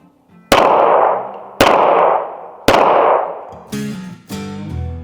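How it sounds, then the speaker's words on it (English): Five 9mm pistol shots with regular supersonic ammunition through a suppressor, sharp loud cracks spaced about a second apart, each with a ringing decay, the last two slightly quieter and more metallic. "9mm pistol with regular ammunition."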